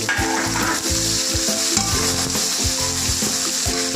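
About half a pound of onions fry in a pan toward a brown colour, a loud continuous sizzle with rhythmic stirring scrapes and utensil knocks throughout, no talking.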